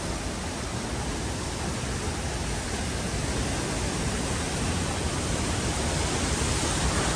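Floodwater rushing down from a dam on the Jaldhaka river after a night of heavy rain, a loud, unbroken roar of churning water filling the whole scene with no voices.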